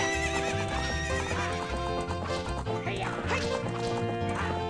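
In the video game Zelda: Ocarina of Time, a horse gallops with rhythmic clip-clop hoofbeats and lets out neighs, all over a looping game music track.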